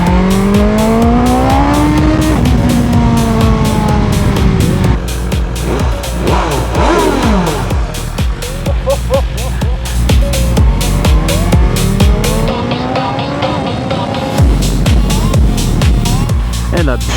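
A BMW S1000 XR M Package sport-touring motorcycle rated at 170 hp revs loudly up close, its engine note climbing and falling through repeated accelerations and gear changes over about seventeen seconds.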